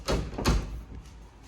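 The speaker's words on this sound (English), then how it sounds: "The door's shut." A door being tried and pushed shut, two quick solid thuds a fraction of a second apart, close and fairly loud, then a fading tail of room noise.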